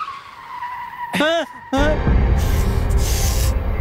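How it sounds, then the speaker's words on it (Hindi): A car brakes hard and its tires skid, a loud harsh screech that swells suddenly and holds for the last two seconds, after a voice cries out briefly in a Hindi-dubbed drama scene. "अरे ब्रेक मार यार।"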